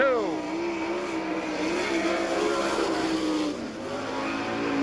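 A sprint car's engine roars through a qualifying lap at an All Star Circuit of Champions dirt-track race in Abbottstown, Pennsylvania, in 1999, its pitch climbing and falling as the car accelerates and lifts through the turns. The sound is loud, continuous and near.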